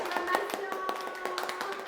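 A small group claps in quick, uneven bursts, sharp individual hand slaps close by over a low background voice.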